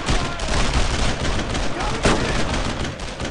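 Dense, loud World War II gunfire from Brothers in Arms: Road to Hill 30 rattles continuously, with rapid overlapping shots and bursts.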